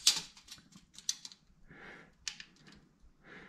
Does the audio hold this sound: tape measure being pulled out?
yes